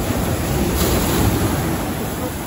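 Sea water surges and churns at rocky Seethapalem beach near a hidden cave at Pudimadaka, Vizag: a loud, continuous roar with wind buffeting the microphone.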